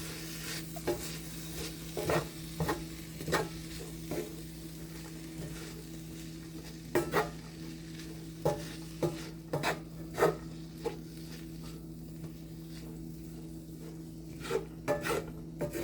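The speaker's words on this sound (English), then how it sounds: "now you want to break up the cold rice, give everything a mix" Cold leftover rice being broken up and mixed with pickled banana peppers in a dry frying pan: repeated scraping and tapping strokes of a utensil against the pan, steady and close, with a low continuous hum underneath and no talking.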